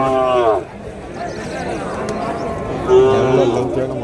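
At a cattle market, cows let out two drawn-out moos, one at the start and one near the end, amid people talking and general market bustle.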